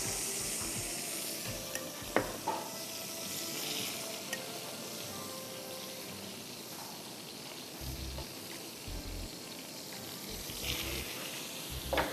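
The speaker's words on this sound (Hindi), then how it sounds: "चिकन को सियर करके निकाल दूंगी" Chicken sears in a pan, being cooked on both sides for Bastani. A faint, steady sizzle runs throughout, with a couple of soft clinks and some low bumps later on.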